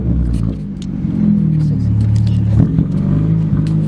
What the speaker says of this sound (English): We got a car coming.